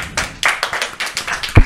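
A few hands clap in scattered, uneven beats during a French live stream, close and fairly loud, with a sharper thump near the end.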